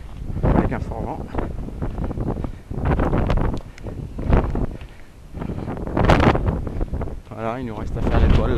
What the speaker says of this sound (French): Avec un fort vent.